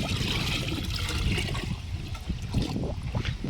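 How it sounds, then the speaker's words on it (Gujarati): Dissolved jaggery water, about a kilogram of jaggery, is poured into a mixture, giving a steady continuous splashing and trickling rush that runs for the whole stretch, close and fairly soft, with no talking. "એક કિલો એક ગોળ છે જે આપણે ઓગાળી લીધો છે એને આપણે આમાં એડ કરી દઈએ"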